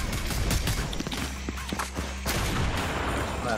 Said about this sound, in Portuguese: Outro tiro.